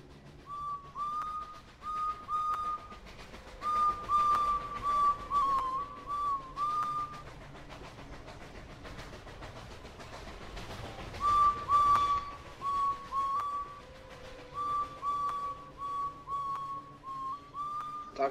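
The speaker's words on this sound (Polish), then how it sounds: "Też w ogóle w aktualizacji mój gwizdy zmienili." A character in a video game whistles a simple repeated tune, clear and fairly close, in two phrases separated by a pause, over a quiet low background hum.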